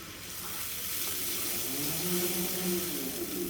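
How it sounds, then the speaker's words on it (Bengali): Two goat brains frying with salt in a pan give a steady, soft sizzle that holds close and moderately quiet throughout, with no talking over it. "আমি এখানে দুটো খাসির মগজ নিয়েছি এখন আমি একটু লবণ দিয়ে আর একটু ভেজে নিব"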